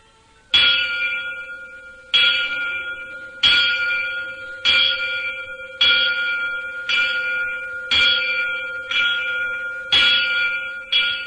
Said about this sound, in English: The bell tolled by Nissho at the moment of Nichiren's death